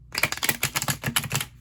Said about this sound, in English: let's finish up shuffling for you guys